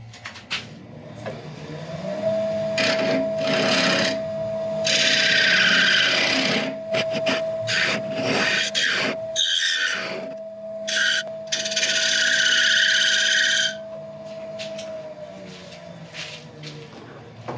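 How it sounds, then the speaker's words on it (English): A small round nose scraper cuts into the bottom of a wooden bowl spinning on a lathe, giving a steady humming tone under bursts of loud abrasive scraping that come and go across the clip. "I'm just going to get into the bottom there with a little round nose scraper"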